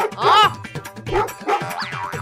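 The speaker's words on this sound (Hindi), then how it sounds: "अरे ये कुत्ता क्यों भौंक रहा है?" A cartoon dog barks in a short animated scene, giving a few bright, springy yaps and bow-wows in quick succession, close and loud, with cartoonish bouncy tones.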